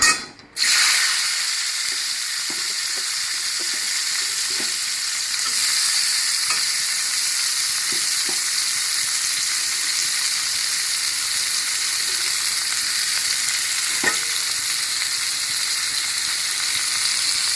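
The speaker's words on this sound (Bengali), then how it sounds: "উস্তাটা বেজে নেই তেলটা গরম হয়ে গেছে এখন দিয়ে দিই উস্তে" Finely chopped bitter gourd hits hot oil with a sharp burst, then fries in a loud, continuous sizzle with occasional stirring clicks.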